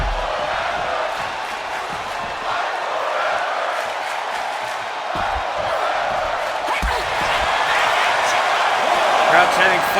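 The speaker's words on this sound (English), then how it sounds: "Crowd chanting fight forever." Virtual arena crowd in the WWE 2K25 wrestling game chanting fight forever, a dense, roaring mass of voices swelling steadily under energetic commentary.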